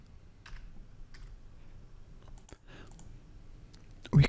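Typing on a computer keyboard: a quiet, uneven run of individual key clicks spread over a few seconds, ending in a louder thump.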